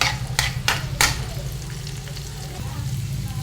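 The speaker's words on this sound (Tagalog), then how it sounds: "magigisa na tayo. Unahin natin bawang, sunod sibuyas" Garlic and then onion are sautéed in a pan for Bicol express: three sharp utensil clacks open, followed by a soft, continuous sizzle under a low steady hum.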